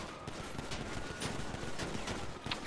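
Rapid, dense gunfire fills a GTA gang shootout, with continuous automatic bursts and overlapping shots, close and loud.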